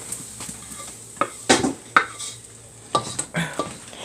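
Sliced onions tipped from a board into a pan for chicken teriyaki, a few separate clattering knocks and scrapes of utensil on metal, close by and with no talk.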